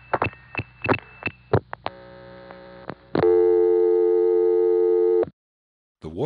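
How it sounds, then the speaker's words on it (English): Several short, sharp 2600 Hz telephone tone chirps in a quick irregular burst, then a steady telephone hum and a long busy-style tone before it cuts to silence. "you'll hear a total of 5 2600 cheeps."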